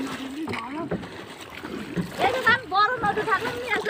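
A small boat moves across river water on a foggy day with gentle splashing and lapping close by, while people talk over it.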